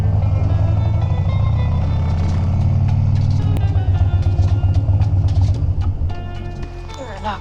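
A Harley Dyna motorcycle engine rumbles loud and close, its heavy low idle punctuated by sharp popping backfires, then the roar eases slightly near the end.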